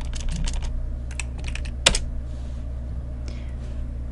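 Fingers type on a computer keyboard in a few quick bursts of clicks, with one louder key strike in the middle, close and clear over a steady low hum, with no talking.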